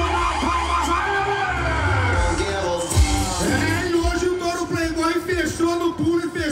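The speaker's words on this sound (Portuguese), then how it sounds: "Palmas a ele!" Stadium crowd at a rodeo yelling and cheering for a cowboy rider, a dense roar of voices with whoops and scattered claps, heard beneath an excited announcer talking over a loudspeaker.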